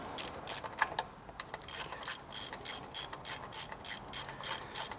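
A ratchet wrench loosens a tensioner bolt on a car during a catch can install, a quick series of crisp clicking pawl bursts in a steady rhythm, close and clear with no talking.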